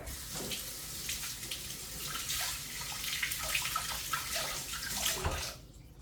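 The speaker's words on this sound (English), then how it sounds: "Let me rinse this little one off." A small kitchen utensil rinsed under a running faucet, steady splashing water flowing close and fairly loud for several seconds before the tap cuts off near the end.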